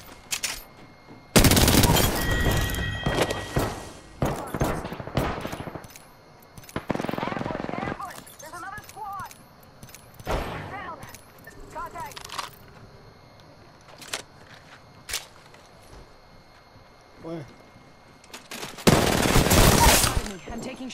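Several loud bursts of video game gunfire, automatic and single shots, erupt at irregular intervals with quieter stretches of movement and effects between them.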